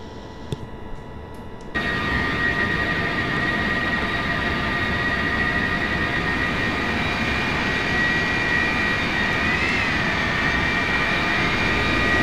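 Boeing 707 jet engine spooling up in a flight simulator game, a loud steady roar with a rising whine that holds through the clip after a short quieter start, no voices.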